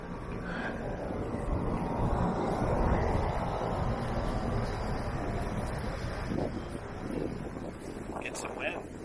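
Steady wind blows outdoors at a house, a constant broad rumbling rush buffeting the microphone for the whole stretch, loud and unbroken, with faint voices talking underneath.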